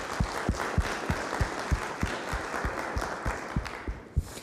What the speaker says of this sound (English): So let's make some applause for that to get it started.